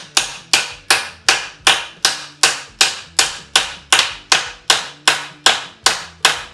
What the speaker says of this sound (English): So I'm taking an old 1/2-inch socket that I have and just driving it on there.